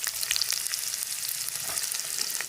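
Onions frying in hot oil, a steady broadband sizzle with faint crackles running throughout at moderate level, no voices.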